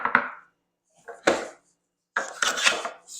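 Three rasping strokes of a hand plane taking big wood shavings, each a short swish separated by pauses. The last stroke is longer and rougher, and all are heard close up.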